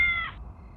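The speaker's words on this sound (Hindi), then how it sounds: "बिल्ली होगी, उस कमीने पड़ोसी ने बिल्ली पाली है ना, वही होगी।" A short cat meow or yowl in a home, one brief tonal cry that cuts off after a fraction of a second, fairly near, followed by low background hum.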